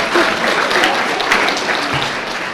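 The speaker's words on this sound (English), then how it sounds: "Go ahead and clap." Audience applause breaking out at a talk, a dense steady wash of many hands clapping close by for a couple of seconds with no voices on top.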